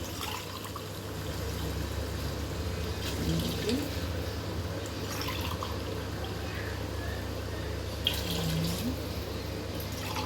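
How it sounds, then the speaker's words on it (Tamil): Water poured into a mushroom biryani masala in a home kitchen, a soft steady trickle and fill sound over a constant low background hum, fairly faint. "இப்போ நாம் இதோட தண்ணி சேர்க்க போகிறோம்"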